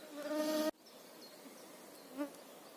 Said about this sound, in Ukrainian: лісі вже з'явилося багато комарів. Вони всі літають навколо мене.